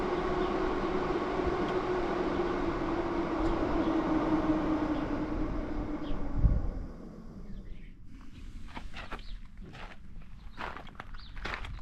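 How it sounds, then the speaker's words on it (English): Cooling fans of an Oscal Powermax 6000 power station whir steadily while it charges, a close, even hum that drops away after about seven seconds, leaving soft clicks and knocks. "You can hear the fans run, cooling as it's charging."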